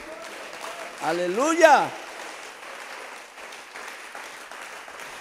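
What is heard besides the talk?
congregation applause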